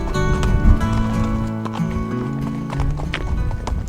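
A horse ridden through mountains, its hooves clip-clopping at a steady pace amid continuous outdoor noise, with the animal's sounds up close and a brief whinny-like tone.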